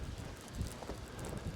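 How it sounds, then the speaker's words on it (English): Steady strong wind gusting across the microphone on a Norwegian shoreline during halibut fishing, a continuous low rumbling buffet with no clear pauses. "it's really windy again"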